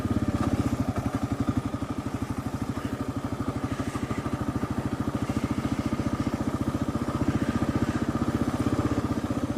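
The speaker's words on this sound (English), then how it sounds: "That guy moving on his motorcycle." A motorcycle on a backcountry dirt route in Arizona runs with a steady, rapid engine putter that holds at an even, fairly close level throughout, with no speech.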